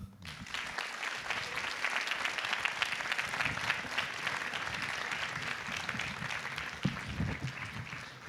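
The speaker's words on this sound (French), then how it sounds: "je vous demande d'applaudir chaleureusement Monsieur Bernard Magré" Warm, sustained applause from a large audience greets Bernard Magrez, owner of four Grands Crus Classés, filling the room steadily and evenly from start to finish with no voices on top.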